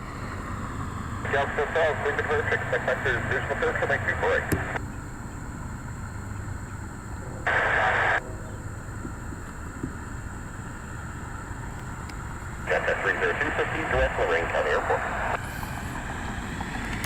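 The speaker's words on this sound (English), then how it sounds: "Citation inbound on 24 right" A Cessna Citation Sovereign business jet inbound to runway 24 right, a distant steady jet roar beneath a constant high whine and intermittent bursts of radio chatter.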